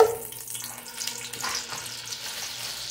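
Butter sizzling and crackling steadily in hot canola oil in a pan, a soft continuous frying hiss with no voices.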